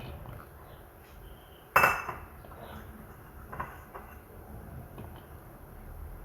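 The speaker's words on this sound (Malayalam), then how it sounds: "ചക്കക്കുരു വേവിക്കാൻ വേണ്ടി നമുക്ക് ഈ ചട്ടിയിലേക്ക് ഇട്ട് കൊടുക്കാം" Jackfruit seed pieces drop into a clay cooking pot with one sharp clattering hit, followed by a few softer knocks and shuffles nearby.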